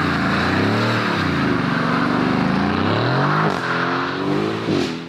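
Aston Martin V8 Vantage with its AMG-sourced V8, revving loudly nearby, pitch climbing and falling in repeated sweeps before easing off.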